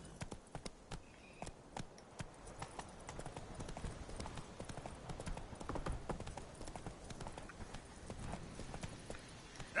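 Roach, a horse in The Witcher 3, gallops with rapid, steady hoofbeats that are close and fairly quiet, growing busier midway, with a faint whinny.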